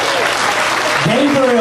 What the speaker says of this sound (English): let's give a round of applause for Gabriel and Zeke